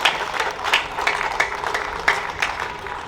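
Audience at a Palestinian flag raising in Paterson claps steadily for a few seconds, a moderate, fairly even patter of hands with no voices on top.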